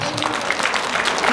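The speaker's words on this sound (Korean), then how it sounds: "박수 크게 한번 보내주세요." A crowd at a political rally claps loudly and continuously, the broad applause mixed with voices and crowd noise throughout the short stretch.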